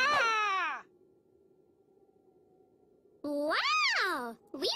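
Giant cat in a cartoon meowing, two long rising-and-falling meows separated by a quiet pause with a low hum, loud and close, a third meow starting at the end.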